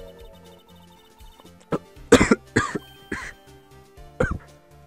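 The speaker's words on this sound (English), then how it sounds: "I just went on a coughing fit there." A fit of harsh coughs, four or five bursts in quick succession, close and loud over a quiet background hum with faint low tones.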